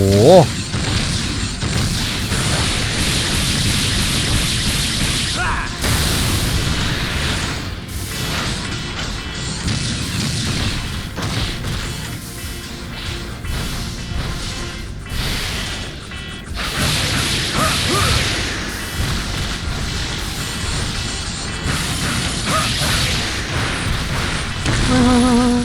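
Continuous loud action in the video game Onimusha 2: Samurai's Destiny with repeated explosive booms and crashes, dense and chaotic throughout, with excited voices mixed in.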